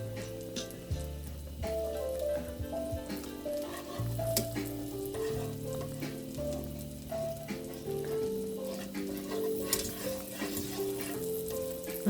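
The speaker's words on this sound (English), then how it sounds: "That's one of my favorite smells, is melting butter." Butter melts and sizzles in a frying pan as a steady, soft crackling hiss with small pops, running under louder background music throughout.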